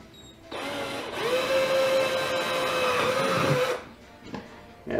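A drill with a 4 mm metal bit whines steadily for about three seconds as it bores through a plastic moped top box, loud and close, then cuts off.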